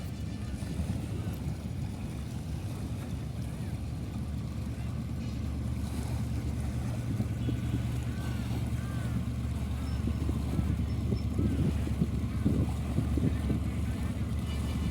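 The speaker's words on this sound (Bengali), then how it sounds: "বড় একটি নৌকা আসতেছে, ট্রলার বলা হয় এটাকে।" A large trawler boat passes on the Padma river, its steady low engine drone running throughout the clip and swelling slightly louder toward the end, with breeze and water noise around it.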